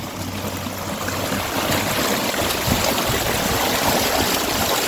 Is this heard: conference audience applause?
no